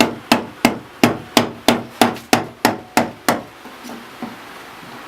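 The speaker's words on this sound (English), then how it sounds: "Light, gentle taps that are only taking about 1/16 of an inch away." A blade held against wood takes about ten light, gentle taps from a hammer. The sharp knocks come at a steady rhythm, close and crisp, and fade to softer hits at the end.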